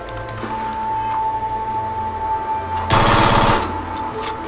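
Gunfire from a Kodama weapon in the game Starfield: a short, dense burst of rapid shots that sounds loud and close over a low steady game hum, with quieter ambience before and after.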